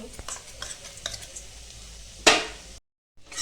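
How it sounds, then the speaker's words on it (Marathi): Finely ground peanuts and garlic dropped into hot oil in a kadai, with soft stirring and light sizzling, then a sharp bright hiss as more goes in, followed by a brief silence. "बारीक केलेले शेंगदाणे ना तेलामध्ये टाकून घेऊ"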